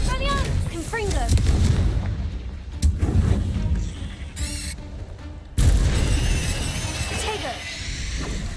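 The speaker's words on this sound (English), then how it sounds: "Stupefy! Expelliarmus! Confringo!" Spell blasts burst out in a Hogwarts Legacy duel, several loud booming impacts going off in quick succession, with a voice shouting spell names over them.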